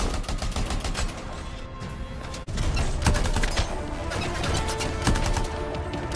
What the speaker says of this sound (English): The Hammerhead is a heavy hitting assault rifle, with very good power, good range, an average rate of fire,